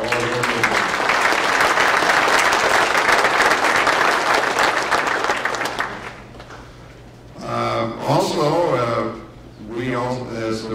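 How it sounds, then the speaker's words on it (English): Indoor audience applause at a community meeting's opening remarks, loud dense clapping for about six seconds that fades out, followed by a person speaking. "I think we need to give them a round of applause for all of them."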